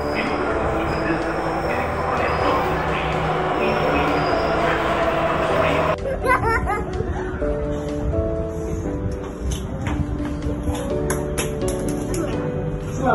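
A Jakarta MRT train rumbles and hisses into a station, braking with a metallic screech, then quiets as chimes and a recorded voice announcement play.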